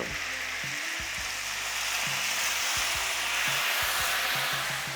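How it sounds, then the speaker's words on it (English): Cognac splashed into a hot pan with butter to deglaze it for steak au poivre, giving a loud, continuous sizzle close up with some low clicking underneath and no speech. "I will add some cognac just to deglaze the bottom of the pan"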